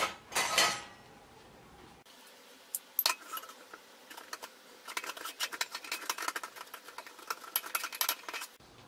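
Chicken cubes being stirred to dissolve in a pot: after an opening clatter, a spoon scrapes and clinks against the metal in quick, irregular strokes that grow busier toward the end, close and fairly quiet.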